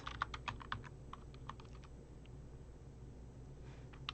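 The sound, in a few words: typing on a computer keyboard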